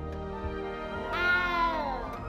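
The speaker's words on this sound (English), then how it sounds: "You don't need to be frightened, little cat." A cat meows in the video game Hogwarts Legacy, one drawn-out, rising and falling call that stands out clearly over steady background game music.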